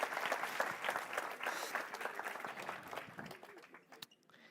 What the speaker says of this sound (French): Est-ce qu'on peut l'applaudir bien fort?